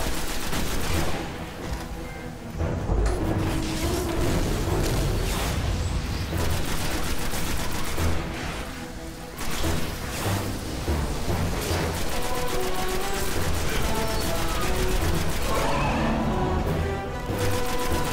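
Rapid bursts of gunfire from a powerful weapon in the video game Destiny, dense and continuous, with booming blasts layered over a busy game soundtrack and effects throughout.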